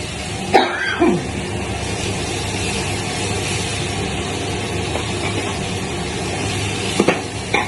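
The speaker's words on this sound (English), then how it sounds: "So vegetables and your meat and cooking in fat." Galouti kebab meat and vegetables frying in fat, a steady low sizzle and crackle running throughout, with a few sharp clatters of utensils near the start and the end.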